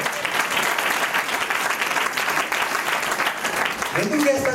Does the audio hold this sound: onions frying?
no